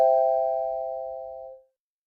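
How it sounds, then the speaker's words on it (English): A single bell chime rings out clearly as a lesson signal, a bright ding that rings on and fades away over about a second and a half, with no voices. "you'll hear this bell"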